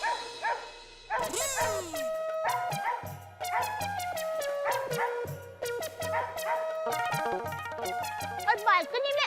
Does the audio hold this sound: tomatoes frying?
no